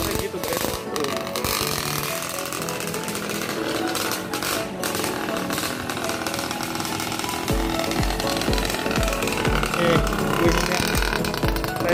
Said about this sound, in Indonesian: Jadi mau nyobain nyalain motornya.